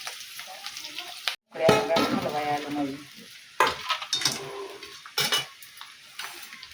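Sabudana and potato being roasted and stirred in a pan, a spoon scraping and knocking against the metal over a soft frying sizzle, with a brief pause and some voices in the background.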